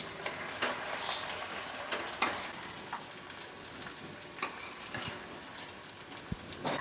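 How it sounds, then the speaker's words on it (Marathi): Washed basmati rice being stirred in a pot for chicken yakhni pulao, with soft scraping and scattered light clinks of a spoon against the vessel over a low background sizzle. "आता हे तांदूळ आहेत ना, ते आपल्याला एकजीव करून घ्यायचे आहेत."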